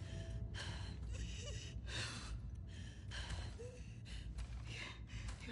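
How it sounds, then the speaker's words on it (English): A wounded character in The Last of Us 2 breathes in labored, ragged gasps. Short, strained inhales and exhales repeat about once per second, close and quiet. "Your breathing's worse."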